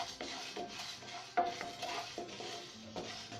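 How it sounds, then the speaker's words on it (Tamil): Skinned moong dal being dry-roasted in a pan, with quiet scraping and rattling strokes of a spoon against the metal, repeated at an irregular pace, close and soft. "நம்ம பாசி பயிறு தோல் நீக்கினது இதை வறுப்போம்."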